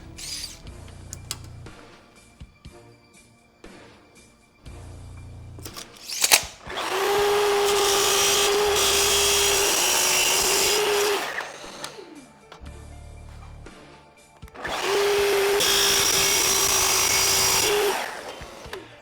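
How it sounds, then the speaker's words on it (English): A power tool whines loudly while cutting aluminum angle iron into 16-inch pieces, in two sustained high-pitched bursts of several seconds each, separated by quieter handling and setup sounds. "I now want to take my aluminum angle iron and cut this down to 2 pieces that are 16 inches long"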